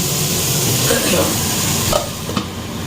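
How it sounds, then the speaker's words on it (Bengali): Omelette pieces and onion fry in a pan, giving a steady close sizzle with light stirring scrapes, a few soft clinks near the end. "ভাজা ভাজা করে নিই তারপরে ঝোলের জন্য জল দেবো"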